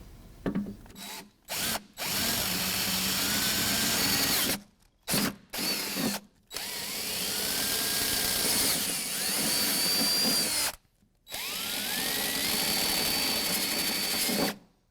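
A drill bores through sheet metal on a 2015 Jeep JKU fender in several long, loud runs with brief stops, its high whine rising and shifting as the bit bites.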